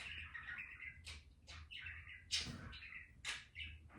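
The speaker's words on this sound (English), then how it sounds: "I apologize for my bird." A pet bird chirps and tweets indoors in repeated sharp bursts, fairly close and moderately loud, over a low steady hum, with no speech.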